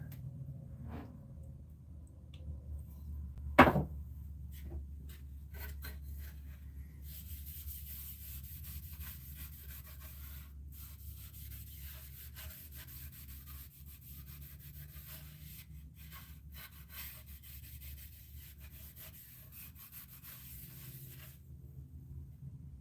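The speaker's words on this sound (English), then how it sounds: "Let's do the back. Let me get some more mineral spirits." Steady rubbing of a cloth soaked in mineral spirits across a wooden test piece of stock, close and fairly quiet, with one sharp knock early on and a low hum beneath.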